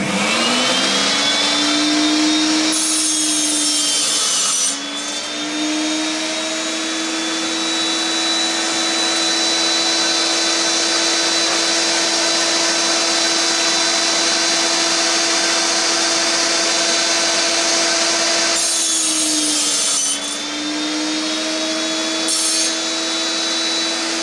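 A circular saw cuts wood while push sticks feed the stock in a joinery workshop. A loud, steady motor whine runs throughout, with two brief dips in pitch as the blade bites into the wood. No one speaks.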